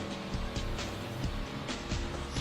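A Dominator muscle car drives in GTA 5, its steady engine drone continuous and close, with faint ticks and swells as it accelerates and shifts.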